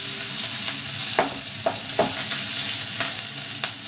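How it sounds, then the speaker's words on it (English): Onion, ginger and curry leaves sauté in hot oil with mustard seeds and urad dal for oats vegetable upma, giving a steady close sizzle broken by a few sharp scrapes of a stirring spoon. "Then add onion, ginger and curry leaves."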